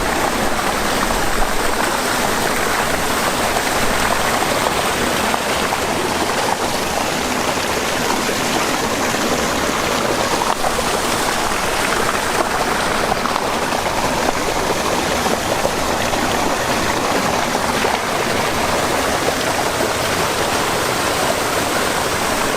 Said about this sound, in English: You can see what I'm saying, it's only a small waterfall, but it's kind of cool though.